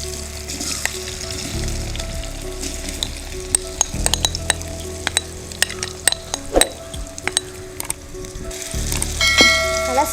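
Soya chunks mixed with spices dropped into about three tablespoons of hot coconut oil, sizzling and frying loudly with clinks and scrapes of a stirring spoon against the pan.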